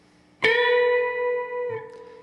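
An electric guitar plays a short riff: one sharply picked note rings out clearly for over a second, followed by a softer second note, alone and close.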